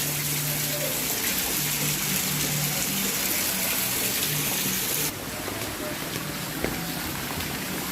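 Loud rushing water pours steadily like a waterfall on a path climbing toward a natural water slide, a dense continuous roar that drops slightly in level partway through and keeps going.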